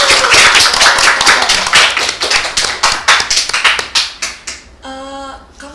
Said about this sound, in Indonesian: Boleh dong tepuk tangannya dong.